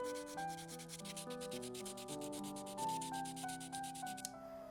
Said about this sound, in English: you always have to go over it with sandpaper.